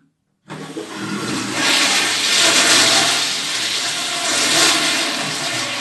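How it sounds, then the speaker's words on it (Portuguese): A toilet flushes with a sudden loud rush of water after a brief silence, then a sustained roaring swirl that stays strong and close for several seconds. "Agora eu posso usar aqui a minha descarga."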